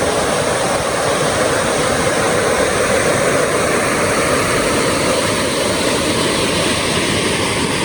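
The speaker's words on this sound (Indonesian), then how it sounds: "Sekitaran sini ada sungai yang memang besar." A large river flows near a house gate in Lembur Pakuan village, Indonesia: a loud, steady broadband rush of water that fills the whole stretch without pause or voices.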